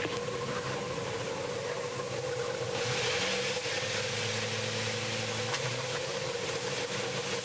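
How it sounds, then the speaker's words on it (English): IndyCar race car engines at the Kentucky Indy 300 started and idling, a steady distant mechanical drone with broad hiss and a low rumble running throughout at moderate loudness. "Drivers, start your engines."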